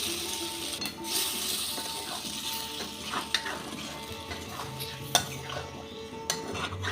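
Fried tempering with asafoetida poured into a kadai, giving a steady sizzle with stirring and light clinks of a metal pan and utensils throughout, moderately close with no voices.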